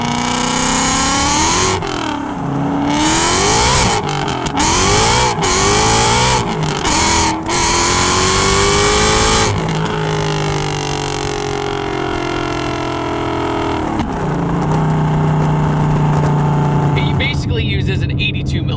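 Supercharged 800 hp Mustang GT with a Gen 3 2.65 liter supercharger: a very loud, close, sustained engine roar rising and falling through revs and gear shifts, with a steady drone toward the end.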